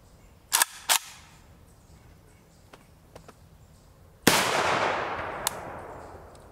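A 7.62x39mm rifle firing 46-grain FMJ Czech training rounds through an RRD4 muzzle brake: two sharp nearby shots, faint distant pops, then a loud blast with a long decaying echo and another crack.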